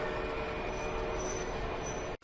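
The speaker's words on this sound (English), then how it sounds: "Here's a G-scale locomotives." G-scale model train locomotives run at a crowded train show, giving a steady rolling rumble and wheel noise with a faint high squeal, continuous and fairly close before cutting off abruptly.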